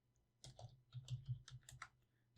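A computer keyboard clatters as a short burst of quick keystrokes is typed, with about a dozen close, soft taps in an irregular rhythm and no talking.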